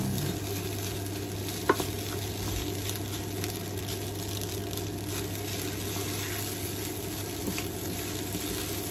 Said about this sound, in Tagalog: Halo-haloin lang po natin nang mag-mix sa kanin ang egg.